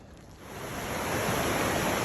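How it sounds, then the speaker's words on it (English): Cascading waterfall at Happy Isles Bridge in Yosemite, a steady broadband roar of falling water that swells slightly louder and stays constant, with no voices. "So great to see so much water, hear that cascading falls in the background."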